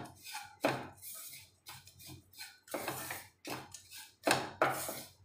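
Almonds, raisins and pumpkin seeds are stirred together in a pan, giving a series of close, irregular scraping and clinking strokes with short pauses between them.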